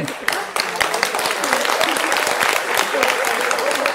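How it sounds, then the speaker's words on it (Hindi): Loud, dense audience applause fills the whole stretch at a Madhya Pradesh election 2023 opinion-poll discussion, steady and continuous with a few sharper claps near the start and voices faintly mixed in. "जोरदार तालियां"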